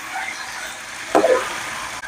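Chicken and rock salt stirred in hot oil give a soft, steady sizzle, with one brief louder scrape of stirring midway through.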